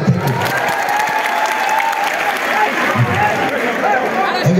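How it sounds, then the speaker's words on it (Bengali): An audience at an annual company cultural program applauds a brave volunteer with sustained loud clapping. A voice is heard faintly over the applause. "এই সাহসী আপুর জন্য জোরে একটা হাততালি।"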